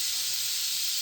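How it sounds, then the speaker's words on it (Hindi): A pressure cooker on the stove lets off a steady, loud hiss of escaping steam through its whistle while sesame and jaggery are being prepared, a continuous breathy rush with no talking over it. "और कुकर में सीटी आना भी शुरू हो गई।"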